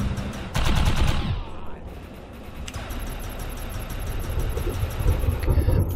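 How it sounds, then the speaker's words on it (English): Machine gun fire in the video game Defiance 2050, rapid bursts of rattling shots in two long stretches with a throbbing engine-like hum between, loud and close. "Show you my machine gun."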